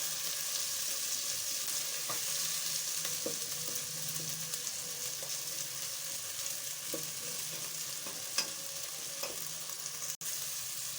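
Aloo baingan, potato and eggplant with tomatoes, frying in a pan while being stirred, giving a steady sizzle with scattered scraping taps throughout and one sharp knock near the end, with no talking.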